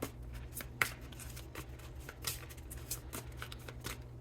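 Tarot cards being shuffled: quick, soft riffling bursts repeating every half second or so, close by and fairly quiet, with no voices.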